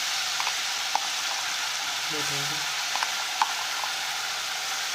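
Masala frying in oil in a pan for a Marathi cowpea pod (chavli) vegetable dish, a soft steady sizzle with light stirring clicks, faint and continuous.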